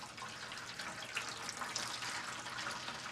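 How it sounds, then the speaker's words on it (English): Coffee poured gently into a tray makes a soft continuous trickle and splash, quiet and steady for a few seconds with no talking. "I'll pour this hopefully very gently in my tray."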